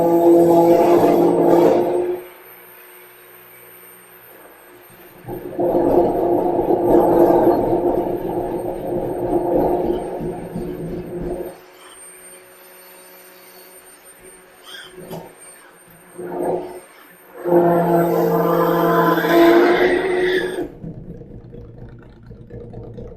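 A stick blender whirs through cold process soap batter in bursts, loud buzzing stretches separated by quiet pauses, with a steady faint hum underneath.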